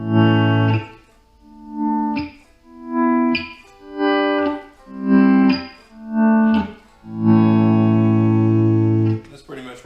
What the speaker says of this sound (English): when I do my delay, that you will hear the delays sustain out.